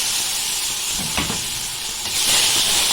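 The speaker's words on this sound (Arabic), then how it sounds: "شوحت بقى لسان العصفور في معلقه الصلصه" Orzo pasta sautéing with a spoonful of tomato paste in a pot makes a steady close sizzle and hiss that swells louder toward the end, with no voices.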